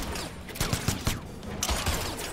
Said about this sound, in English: Okay, gunshot.